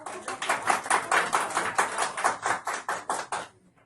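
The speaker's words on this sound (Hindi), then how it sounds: "वाह क्या बात है, बजाओ इसके लिए ताली।" A classroom of students claps for a classmate: about fifteen evenly spaced, fairly loud claps in a steady rhythm that stop abruptly near the end.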